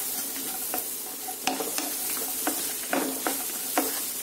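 Chopped onion sizzles steadily in a hot pan for paneer lababdar, with a spoon scraping and stirring in repeated strokes close by and no talking.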